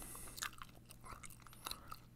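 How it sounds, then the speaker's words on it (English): Hubba Bubba bubble gum is chewed close to the microphone, with soft wet smacks and small clicks in an irregular rhythm, quiet and without any talking. "DRTX wants me to make gum chewing sounds, specifically,"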